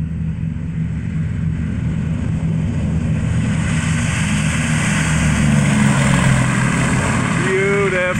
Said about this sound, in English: Listen to those engines hum.